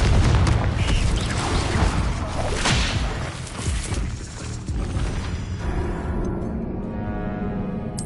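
A Confringo spell explosion in the video game Hogwarts Legacy erupts as a loud booming blast with a rushing whoosh, then fades into a quieter rumbling tail.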